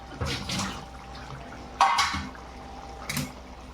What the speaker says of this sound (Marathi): पाणी फेकून द्यायचं आता